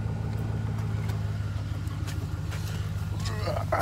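A vehicle engine idling nearby, a steady low rumble that holds throughout, with faint clicks and rustling on top.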